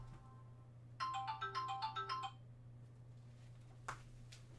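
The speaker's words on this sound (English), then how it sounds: "start recording and the phone rings" A phone's ringtone chimes in a quick melodic burst of repeated tones for about a second, then stops, leaving a quiet room with a steady low hum and a faint click.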